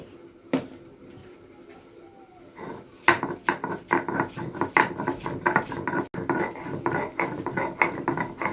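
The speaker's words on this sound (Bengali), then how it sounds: "পাতাটা একটু লবণ দিব, ডাল বাটায় লবণ দিয়ে আছে, এখন বেটে নেব" Leaves ground with salted lentil paste on a stone, quiet at first, then rhythmic rubbing and scraping strokes repeating steadily and fairly close.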